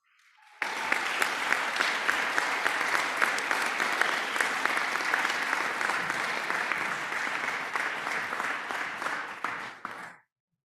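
Audience at the SMRLS 2023 Annual Fall Luncheon breaks into sustained applause, a dense roomful of clapping that starts abruptly, holds steady for about ten seconds and then tails off.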